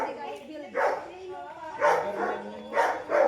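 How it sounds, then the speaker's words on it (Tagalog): A dog barks in three loud, spaced bursts, close by, with a faint voice in the background. "Galit ang aso."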